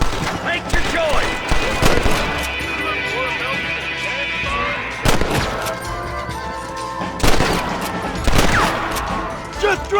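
Gunfire crackles through a Red Dead Redemption shootout, with repeated sharp shots bursting at intervals over a dense, busy game soundscape.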